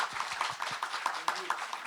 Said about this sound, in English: please join me to give a round of applause to our presenter